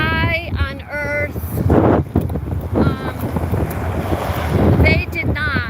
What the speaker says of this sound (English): I really hope this video comes through because it's super duper windy.